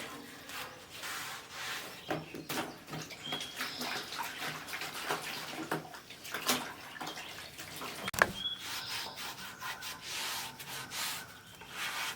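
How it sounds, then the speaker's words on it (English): Water and wiping rub across the flat steel top of a 28-inch Blackstone griddle as soap is rinsed off, with scrubbing and splashing textures that continue unevenly and close by. "I got some clean water, and I'm just going to go ahead and rinse all the soap off."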